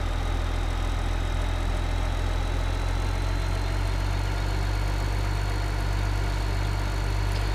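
A tractor engine idles steadily in the Farming Simulator 15 video game, a loud, constant low rumble with no talk.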